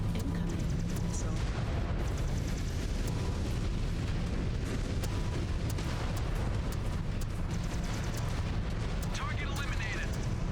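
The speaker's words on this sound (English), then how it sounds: "Incoming. Missile." Missiles and explosions in the MechWarrior 5: Clans video game, a steady dense rumble of booms and blasts with sharp impacts throughout, radio voices talking over the battle.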